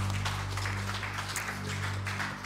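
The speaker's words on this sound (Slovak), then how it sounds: "Zdajme Bohu jeden potlesk dnes ráno" A church congregation applauding during a morning worship service, a steady wash of many hands clapping together under a constant low hum, moderately loud and without speech.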